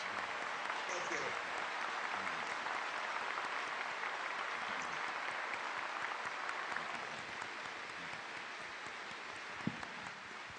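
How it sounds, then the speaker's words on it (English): An audience applauds Warren Buffett with steady, sustained clapping that fills the room and eases off slightly toward the end. "Let's give Warren a huge, big round of applause."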